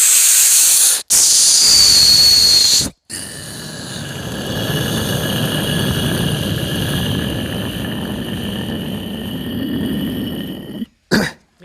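A voice imitates a fighter jet such as a Rafale taking off, a sustained breathy hissing roar that holds steady for several seconds after a few short bursts, then cuts off abruptly.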